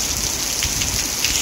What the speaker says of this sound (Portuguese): Olha o barulho. Olha, chuva mesmo.